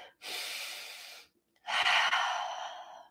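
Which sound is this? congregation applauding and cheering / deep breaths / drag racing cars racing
deep breaths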